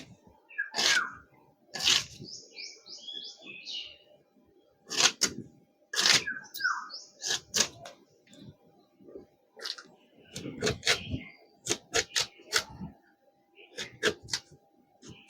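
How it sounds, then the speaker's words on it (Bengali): Knife chopping raw mango into small pieces on a board, sharp irregular cutting knocks in clusters with pauses, close and clear, with occasional scraping between strokes. "আমগুলো একটু সেদ্ধ করব, তো সেই জন্য একটু ছোট ছোট করে কেটে নিচ্ছি"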